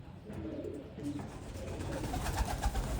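Pigeons given liver medicine in their drinking water coo softly nearby, low murmuring calls over a busy background with no speech.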